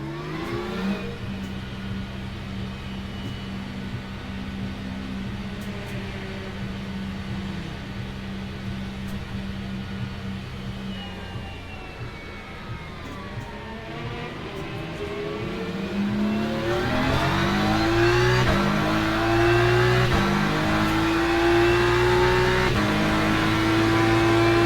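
A race car engine drones steadily in the sim racing game Le Mans Ultimate as the car leaves the pits in a wet race, holding a low hum and then building louder with rising revs and gear changes.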